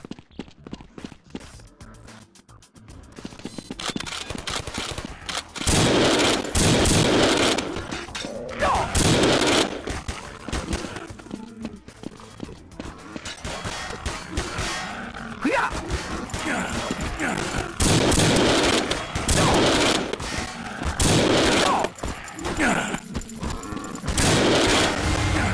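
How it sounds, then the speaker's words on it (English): Heavy machine gun fire in the zombie shooter Codename CURE, a loud, sustained run of rapid bursts with brief gaps, echoing as if in metro tunnels, with a quieter lead-in before the shooting starts. "Heavy machine gun."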